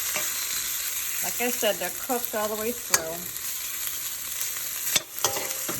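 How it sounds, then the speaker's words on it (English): Food heats in a pan sprayed with a little oil, giving a steady sizzle with faint scraping and stirring sounds, while a person talks over it. "in a pan, I sprayed a little oil. I'm just heating them up."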